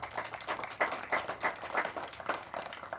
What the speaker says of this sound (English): So let's give property control a big applause.